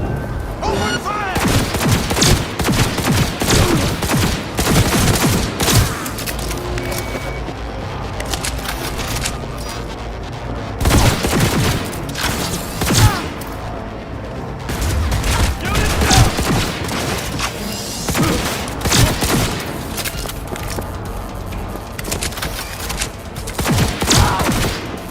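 Rapid bursts of automatic gunfire crackle through a Cyberpunk 2077 firefight on PS5, volleys repeating loudly across the whole stretch while voices shout over the shooting.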